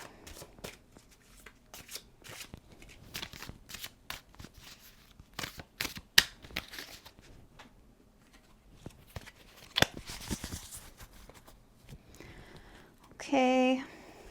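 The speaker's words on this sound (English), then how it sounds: "Shuffle these up." Tarot cards shuffled by hand in a love-reading session: a long run of quick, close, crisp riffling snaps and flicks, fairly loud and continuous, with a brief burst of speech near the end.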